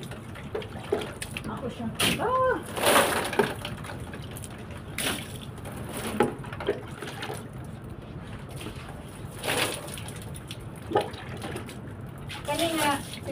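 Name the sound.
water running from a tap to water something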